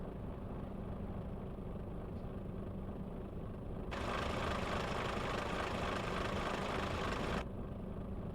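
A truck engine runs rough in a trucking video game: a low, steady rumbling drone turns into a harsher, louder stretch for a few seconds, then settles back, with no voices.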